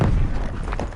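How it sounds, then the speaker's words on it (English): A flashbang grenade goes off in Call of Duty Cold War on the Nuketown map, a loud, heavy low boom that rumbles and fades within about a second. "Using flashbang."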